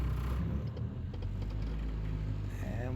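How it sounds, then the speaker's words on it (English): An 1986 Honda Accord with an Integra gear-swapped transmission rolls in first gear, its engine a low steady rumble up close, with a faint whine rising near the end. "We are rolling. We are rolling. First gear."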